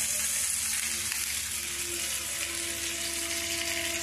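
Chicken pieces seasoned with salt, chili powder and turmeric fry in oil, a steady loud close sizzle throughout with no pauses.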